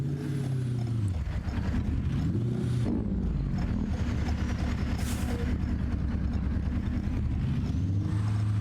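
Heavy truck engine in American Truck Simulator, Nebraska roadwork facility, a steady low rumble with rising and falling revving as the rig maneuvers to turn around, continuous and close with no talk.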